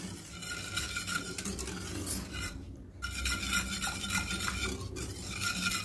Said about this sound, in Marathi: आणि असं मिक्स करून घ्यायचं।